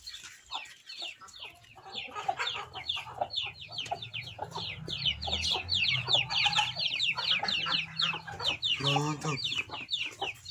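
Hen and chicks cluck and peep in a chicken coop, with steady high chirping throughout and lower hen clucks building toward the end, heard close and fairly loud.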